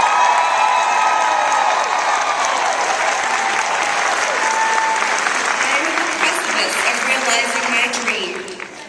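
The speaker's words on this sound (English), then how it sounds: "please stand for your well-deserved round of applause" An audience at a Mary Kay career conference bursts into sustained applause with some cheering and whoops, filling the hall steadily before tapering off near the end, with a voice faintly audible underneath.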